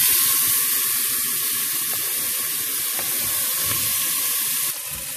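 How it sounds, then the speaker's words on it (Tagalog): Garlic, onion and tomato sauté in hot oil in a pot for sinigang na spareribs, giving a steady, loud sizzling hiss that continues throughout with no talking. "igisa lang natin ng kaunti"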